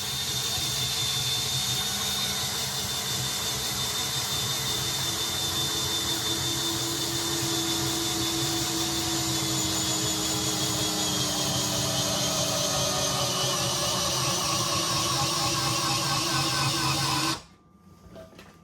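A Hyper Tough 20V cordless hammer drill bores steadily under heavy downward pressure, a loud continuous whining drone that holds without bogging for about seventeen seconds, then cuts off abruptly as the bit breaks through.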